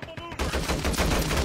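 A submachine gun fires in a video game, a rapid burst of loud, dense shots after a brief short pop at the start, close and punchy across about a second.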